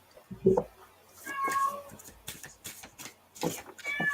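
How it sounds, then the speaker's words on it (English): A loud cat meows insistently several times, close to the microphone, with a few quieter murmurs and rustling in between. "God, that's a loud cat."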